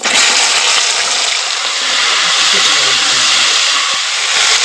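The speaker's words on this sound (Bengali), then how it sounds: "কচুগুলো একটুখানি ভেজে নেবো" Taro pieces fry in hot oil with whole cumin seeds in a pan, producing a loud, steady, close hiss of sizzling that holds unbroken throughout.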